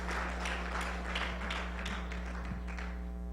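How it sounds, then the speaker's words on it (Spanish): Congregation at a church service applauding, a steady wash of soft claps with scattered sharper taps, fairly quiet and sustained over a constant low hum. "Denle un aplauso fuerte al Señor."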